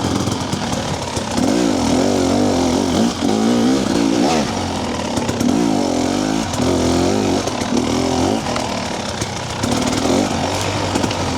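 A TBI dirt bike engine ridden on a fast trail, running loud and close with a raspy drone that rises and falls as the rider rolls on and off the throttle through mid RPM.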